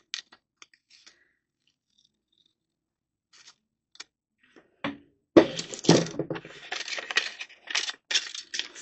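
Excess aged, wrinkled paper being cut away from a handmade Valentine's mini postcard notebook cover: a few sparse soft clicks, then close, crisp bursts of rustling and crackling paper.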